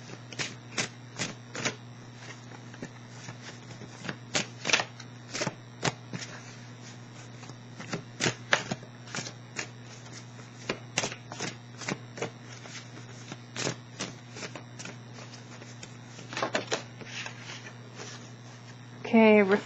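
A deck of cards is shuffled by hand in a series of quick, crisp riffling bursts and taps, close and fairly quiet, with no voice over it.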